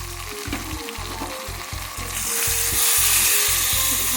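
Boiled taro stalks fry in a pan with bay leaf, making a loud, close sizzle that swells in the second half, broken by a rhythmic series of stirring strokes and scrapes.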